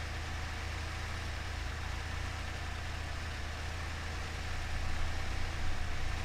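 A vehicle engine in a video game, running in a low-range gearbox, holds a steady, low, droning idle that sags and lugs down. It is moderately quiet, continuous and alone, with no voices over it.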